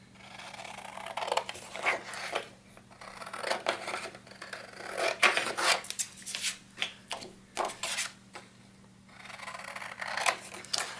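Scissors cutting through a cardboard wand box: repeated crisp snips and rustling scrapes in irregular bursts, close and moderately quiet, with no voices during the cutting.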